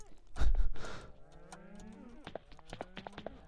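Cows in the Minecraft video game moo, one drawn-out low call after a brief burst of noise, sounding clear and fairly close.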